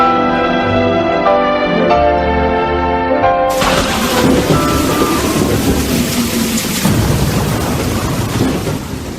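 A thunderclap crashes in loudly over steady heavy rain, and the downpour hisses on as a dense, continuous roar with no voices heard.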